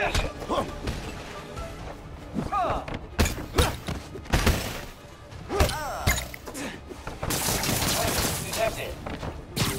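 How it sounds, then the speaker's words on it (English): Gunfire crackles in the superhero video game Spider-Man: Miles Morales as bursts of shots mix with heavy smashes, thuds and combat impacts, loud and chaotic. Voices call out intermittently over the fight. "Watch out for gunfire."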